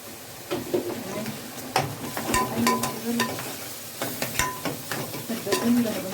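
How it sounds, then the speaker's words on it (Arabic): Spices and onions sizzle steadily in a home-cooking pan, broken by repeated scraping stirs and light clinks of a utensil against the pan, close and moderately loud throughout. "لما بنحط التوابل وهي بتتشوح كده او بتتقلى مع البصل"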